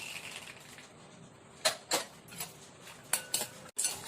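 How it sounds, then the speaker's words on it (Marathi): Peanuts frying in oil in a kadhai while being stirred, with a run of sharp metallic clinks and scrapes from the spoon against the pan over a quiet, steady background hiss. "त्याच्यात शेंगदाणे थोडेसे तळून घेऊया।"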